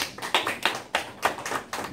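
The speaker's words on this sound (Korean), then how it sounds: "뜨거운 박수 부탁드립니다" Scattered claps at a Korean civil-service exam vocabulary lecture: a handful of sharp, fairly close hand claps in an uneven rhythm, brief and unaccompanied by speech.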